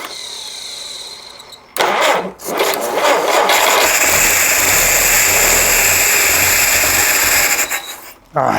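A rebuilt Jeep CJ5 engine cranks over on its first start attempt without catching, apparently starved of fuel. The starter whirs loudly and steadily for about six seconds, then cuts off abruptly.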